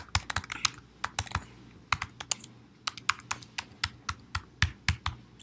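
Fast typing on a computer keyboard while filling in a web form, a crisp, close stream of sharp key clicks in irregular bursts, loud and clear with no talk.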